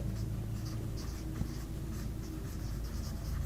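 Pen writing out a math problem on paper or a board, a steady scratching of strokes with short pauses, close and fairly quiet, no talk.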